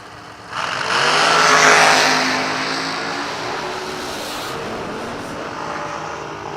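Drag-strip dragster launching in the left lane, a sudden loud roaring engine blast that swells quickly, peaks, then eases into a sustained fading drone as it races away.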